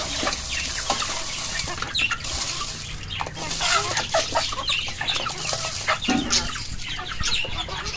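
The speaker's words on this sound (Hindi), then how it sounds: "देखें मुर्गियाँ, शिकारी मुर्गियाँ" Hens cluck and chatter in a backyard pen at feeding time, several birds calling in short, irregular bursts close by, with some wing flapping and rustling in the background.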